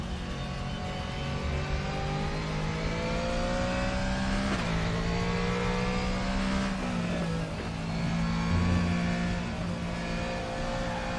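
A race car engine in the RaceRoom racing video game drones steadily at high revs, with pitch dropping and rising through gear changes and light tire noise, loud and continuous with no talk.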